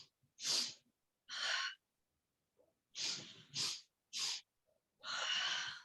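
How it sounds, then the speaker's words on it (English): A person doing chair yoga breathing takes short, quick sniffing inhales through the nose, close and quiet, in separate bursts with pauses between them and no talking. "So you actually do 3 little sniffs of an inhale."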